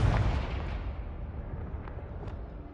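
A Confringo blasting curse explodes in the video game Hogwarts Legacy as one loud booming burst that fades into a rumbling tail, followed by a couple of faint pops.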